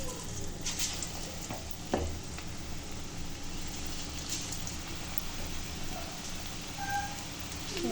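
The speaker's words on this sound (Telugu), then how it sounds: "వేడిగా ఆనియన్ పకోడీ వేసిస్తున్నాను" Onion pakoda frying in hot oil gives a steady, close sizzle and crackle that runs unbroken throughout, with one brief clatter near the start.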